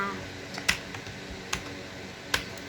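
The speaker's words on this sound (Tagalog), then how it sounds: "Ganyan yung palakpak." Three sharp, separate hand claps at an even, unhurried pace, each a crisp isolated smack against a quiet background, in a disaster survival game.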